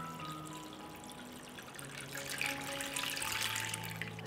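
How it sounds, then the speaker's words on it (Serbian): Water pours steadily into a cooking pot that has a cloth on its base and glass jars standing inside, filled up to the height of the lids. The rushing grows fuller and louder midway, close by, with no talking. "Sipam vodu u šerpu do visine poklopca."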